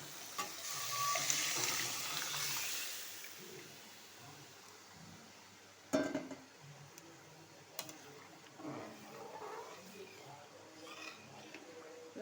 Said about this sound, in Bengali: এবার দিয়ে দেবো সেদ্ধ করে রাখা ডাল আর লাউ।